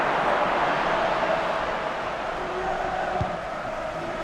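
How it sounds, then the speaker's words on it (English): Stadium crowd noise in the EA Sports FC Mobile football video game, a steady broad roar of cheering that holds for several seconds and sits behind game sounds, with no commentary heard over it. "The crowd certainly think so. Just listen to them."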